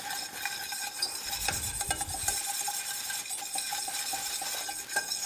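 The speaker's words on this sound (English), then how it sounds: "We will start cooking the flour until it fully has that earthy flavor." A spoon or whisk scrapes and stirs flour cooking in a pan as a roux for a bechamel-style sauce base, with a soft steady sizzle and scattered utensil clinks against the pan, nearby and without talk.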